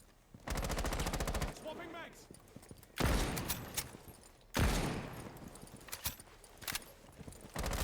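Automatic and rapid gunfire from a Rainbow Six match in a college esports playoff, sounding in loud bursts at several points with quieter gaps between them while commentators talk over the action.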